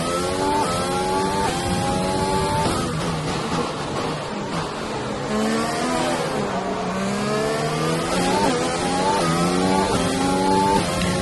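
A Formula 1 race car in F1 2020 at the Azerbaijan Grand Prix, its high-pitched engine loud and close, repeatedly revving up through the gears and dropping under hard braking.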